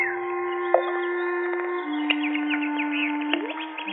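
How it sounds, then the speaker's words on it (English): Birds chirp and twitter in rapid bright bursts over a steady whistling tone, close and continuous with no gaps. "Birds playing in the fish pond."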